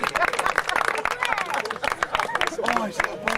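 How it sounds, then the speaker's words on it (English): A small crowd at a Honda Hornet owners club gathering claps and cheers for an award winner, with dense overlapping claps mixed with chatter and voices. "Round of applause to Taff."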